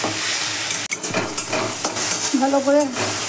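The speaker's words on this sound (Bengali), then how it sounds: "আদা বাটা দিলাম, রসুন বাটা দিলাম, বসিয়ে নেবো, ভেজে নেবো ভালো করে।" Loud sizzling of paste frying in a pan, with scraping stirs and a short hum of a voice near the end.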